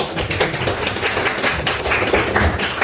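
A classroom of students applauding during a history lesson, a steady patter of many hands clapping close by, dense and sustained with no gaps.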